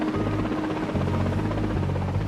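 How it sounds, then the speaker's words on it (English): A rescue helicopter flying after winching survivors from the rig support vessel Grampian Freedom near Aberdeen, a loud, steady rotor thrum that fills the whole short stretch. "a rescue helicopter winches up 14 of the survivors and flies them back"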